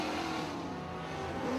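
Chevrolet sportsman race car number 54 runs laps on a speedway, its engine a loud, steady roar that swells slightly near the end as it carries on around the track.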